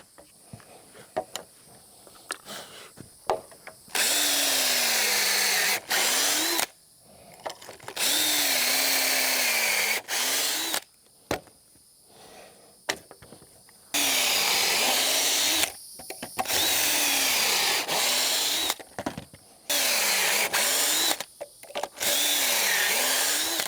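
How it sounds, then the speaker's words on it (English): A power drill drives pocket hole screws into wood in several bursts of a few seconds each, with a whirring motor that rises and dips in pitch as each screw seats, separated by short quiet gaps and clicks. "we will drill them in with pocket hole screws"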